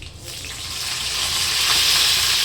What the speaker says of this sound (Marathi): जिरे टाकते थोडी मोहरी आणि लसूण